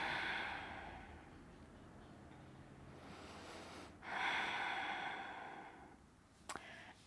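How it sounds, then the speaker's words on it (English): Deep, slow breaths taken during a gentle yoga stretch with a spinal twist, two long exhalations close and soft, with a faint brief sniff near the end. "Breathing."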